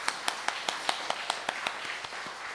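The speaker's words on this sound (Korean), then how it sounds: "우리 그분께 우리 감사의 박수를 드릴까요?" A congregation at an early-morning church service claps in a slow, even rhythm of about a dozen distinct claps, moderately loud and roughly steady in pace.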